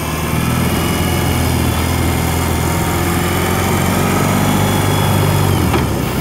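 A 2021 BMW R 18 cruiser motorcycle engine rumbles steadily and loudly throughout, a constant deep throbbing drone with a gritty mechanical texture and no pauses.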